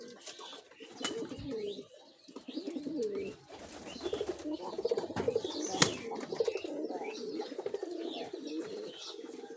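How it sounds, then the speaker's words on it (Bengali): Several pigeons kept in a home loft for sale coo in overlapping low, throaty calls, close by and fairly steady through the stretch, with other bird chirps and faint background noise around them. "অনেকগুলো কবুতর আছে"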